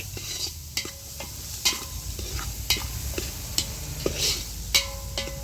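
Onion sizzling in hot oil for tempering, a steady crackling fry with repeated sharp clatters of stirring, heard close and fairly loud with no talking.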